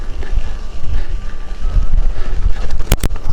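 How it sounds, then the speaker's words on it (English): Wind buffeting the microphone on a motorcycle adventure ride along a remote trail, a steady low rumble filling the clip with a couple of sharp gusty thumps near the end. "The wind."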